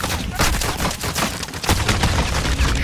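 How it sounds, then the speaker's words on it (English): Rapid gunfire from enemy players in a Warzone match, dense bursts of cracking shots in quick succession, loud and close, almost unbroken across the moment. "No, they're shooting me, mate."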